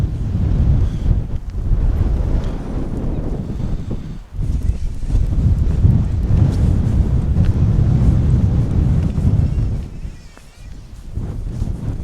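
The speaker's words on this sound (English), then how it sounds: "Very windy for a roof tent." Strong wind buffets the microphone at a stormy beach, a loud continuous roar with gusts and surf-like rushing that dips briefly twice before surging again.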